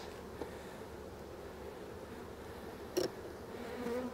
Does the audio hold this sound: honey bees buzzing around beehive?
yes